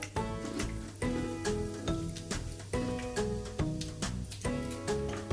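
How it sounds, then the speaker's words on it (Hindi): Whole cumin seeds sizzle in hot oil as a tempering for kadhi pakora, a steady close frying crackle with rhythmic stirring or tapping on top and no talking. "अब उसमें 1 टीस्पून हम साबुत ज़ीरा डाल देंगे और इसको हल्का सा फ्राई कर लेंगे।"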